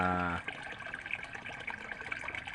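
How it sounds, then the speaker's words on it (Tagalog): A brief tone gives way to soft, steady tap water running through a hose with gentle gurgling, fairly quiet and close. "diretso sa hose galing gripo"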